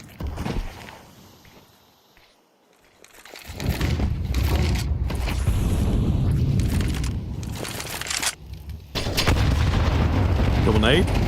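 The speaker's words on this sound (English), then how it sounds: "Double nade." Two grenades going off amid gunfire in a Counter-Strike esports match, with loud booms and shots layered over footsteps and busy game noise, sustained and dense after a brief quieter stretch.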